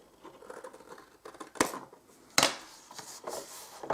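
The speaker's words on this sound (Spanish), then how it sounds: "cogemos las tijeras y lo cortamos." Scissors cut cardstock for a decorated Easter basket, giving a few sharp snips and crinkling paper handling sounds, close and fairly quiet, with pauses between cuts.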